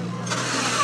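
A tractor engine turns over and catches, its broadband rumble rising into a steady running roar that stays loud and close throughout the short stretch with no talk.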